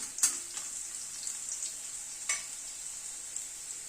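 Potato pieces fry in oil with a little salt, a steady high hiss of sizzling broken by a few brief stirring scrapes, close and even throughout.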